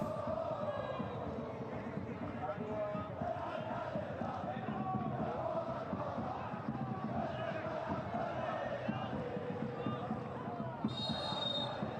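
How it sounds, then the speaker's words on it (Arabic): Al-Hilal football supporters roar and chant inside the stadium in Taif, a continuous wall of crowd noise that swells and surges beneath a match commentator's voice. "صوت جمهور الهلال هنا"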